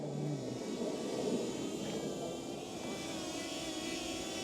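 A DJI Flip drone flies with a steady, even buzzing hum of whirring propellers that holds at a constant level throughout, fairly faint, with no voices.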